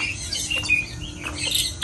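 Several koels and other birds chirp and call at once at a zoo in Langkawi, bright overlapping calls in a busy, noisy outdoor setting.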